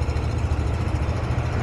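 A small gasoline engine fitted to a mini VW Beetle replica with a Volkswagen-style exhaust idles close by, a loud, steady low rumble with a fast, even pulsing beat.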